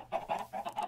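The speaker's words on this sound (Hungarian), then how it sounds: "Ilyen kattogó hangot, meg csirke tyutyogást." Minecraft chickens cluck in a rapid run of four or five short clipped notes, close and fairly loud with no talking.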